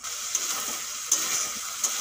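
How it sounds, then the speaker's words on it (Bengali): Spice paste made with green chilli fries in oil, giving a bright, continuous sizzle with a few sharp stirring clicks spaced across it. "এই মশলাটা ভালো করে ভাজা হয়ে গেছে, দেখুন তেল ছেড়ে দিয়েছে"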